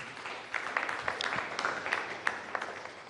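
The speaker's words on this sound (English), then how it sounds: "Please, round of applause." Audience at a business knowledge series event welcoming a tax expert with a short burst of clapping from a modest crowd, moderately near with scattered sharp claps and no voices.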